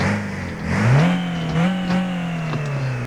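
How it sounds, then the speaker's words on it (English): A delivery van engine revs up from idle, rising to a loud sustained drone, then dipping and climbing again in a couple of throttle blips, recorded close. "Let's just give it some revs."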